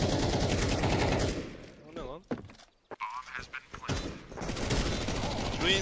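Rapid bursts of gunfire ring out in a first-person shooter match, loud at the start and end with a quieter break in between, and a player's voice is heard among the shots.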